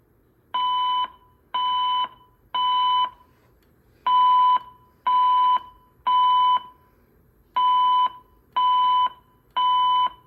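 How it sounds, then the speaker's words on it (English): A Gamewell-FCI E3 fire alarm demo system sounds in repeated groups of three loud, even electronic tones, each group separated by a short pause, clear and close with no voices. "The fire alarm in this building has been activated."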